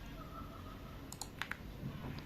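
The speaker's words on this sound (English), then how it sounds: "In the desktop area, I'll just press the F9 keyboard key." A few sharp, quiet key clicks from an AULA F75 wireless mechanical keyboard with gasket mount, pressing the F9 key in a short cluster over faint room hiss.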